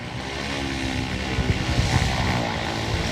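A propeller airplane flies near a farm airfield, its engine a steady, fairly loud drone that builds slightly in the middle and holds for the whole stretch with no talking.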